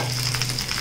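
Cooked, cooled basmati rice tipped into a hot cumin tempering for jeera rice gives a steady, close sizzle lasting under a second, with no voices.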